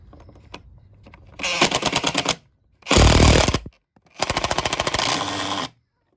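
Three loud bursts of rapid mechanical hammering as tech screws are driven in during a shed build, each lasting about a second, separated by short pauses of near silence.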